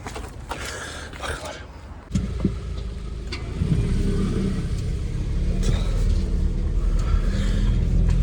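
A car drives along, its mid-pitched engine rumble steady and close after a brief lull, rising slightly as it accelerates, with faint interior sounds early on.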